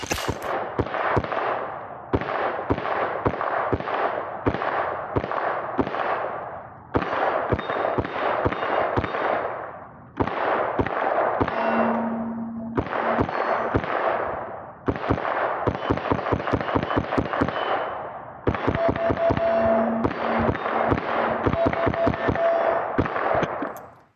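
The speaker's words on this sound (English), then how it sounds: "We're going to go ahead and put some more rounds through our MWG 50 rounder here." Ruger 10/22 Magnum rifle firing rounds from an MWG 50-round magazine: loud, crisp shots in rapid strings of several each, separated by short pauses, heard alone outdoors.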